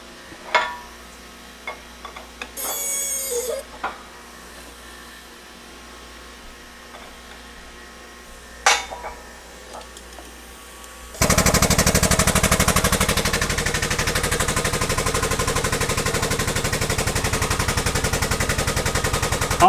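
A hydraulic press crushes a camera. Scattered faint clicks and a few sharp cracks come first, then a sudden loud, dense, rattling grind of the press and breaking metal and plastic that continues steadily to the end.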